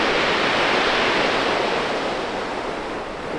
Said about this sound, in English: The tide's racing in